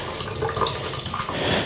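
Tap water runs steadily, rinsing cleaner out of an ITG foam air filter, a close continuous splashing gush with no talk.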